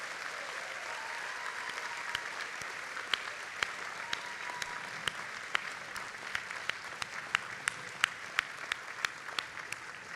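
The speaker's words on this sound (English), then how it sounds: "let's all applaud for their families" Sustained applause from a graduation audience at a School of Medicine commencement, a dense, steady wash of clapping with sharper individual claps standing out, continuing evenly for the whole stretch.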